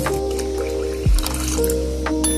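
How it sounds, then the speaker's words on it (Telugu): Water poured into a pot of cooked, mashed moong dal for a dal rasam, giving a short close splash and slosh midway through, set against a steady low kitchen hum. "ఇప్పుడు మనం ఇందులోకి వాటర్ వేసుకుందాం సో ఇలా వాటర్ యాడ్ చేసుకుందాం"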